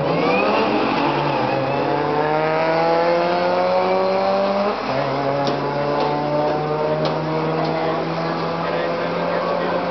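A Saturn Ion Redline and a Camaro Z28 drag racing, with a loud, sustained engine roar climbing through the gears, one clear shift near the middle, and a faint crowd or voices beneath the noise.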